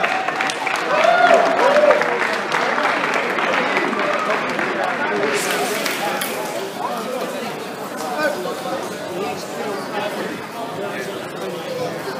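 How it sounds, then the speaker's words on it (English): Audience applause for boxers at a Cuban boxing event, a dense, steady wash of clapping from a large crowd mixed with chatter, loudest at the start and holding on throughout. "Let's give these boxers a big round of applause."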